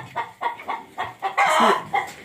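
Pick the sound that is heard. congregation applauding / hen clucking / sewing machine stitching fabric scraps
hen clucking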